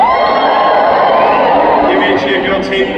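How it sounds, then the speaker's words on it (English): A large live audience cheers and whoops loudly, a dense roar of many voices sustained for a few seconds. "Give me a cheer for your team, Meghan and Harry"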